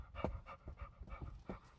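A dog pants rapidly and steadily up close, with rhythmic breathy puffs and faint whimpering undertones and no talking over them.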